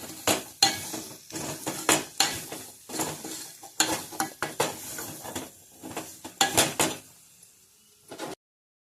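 A spatula stirs carrot curry in a metal pan, giving repeated sharp scraping and clanking strokes in an uneven rhythm over a light sizzle, close and fairly loud, then stopping abruptly.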